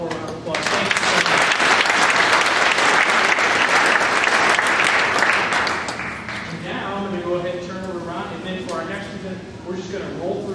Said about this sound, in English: let's give Laura one more round of applause